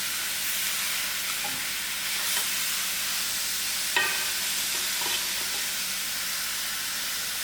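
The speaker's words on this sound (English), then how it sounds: "Thereafter we lower our heat and allow this meat to cook out." Lamb chops sizzle steadily in a hot pan, a constant hissing fry with a few soft clinks and pops, close and alone without voices.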